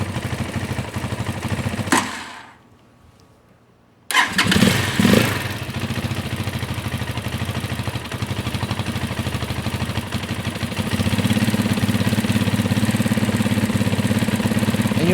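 Janus 250 motorcycle engine idling steadily up close at operating temperature, briefly cut out for about two seconds before restarting and settling into a continuous idle that grows slightly louder and deeper toward the end.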